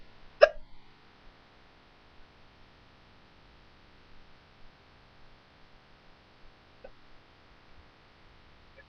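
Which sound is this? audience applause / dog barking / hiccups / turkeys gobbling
hiccups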